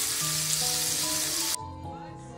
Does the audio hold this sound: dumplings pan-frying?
yes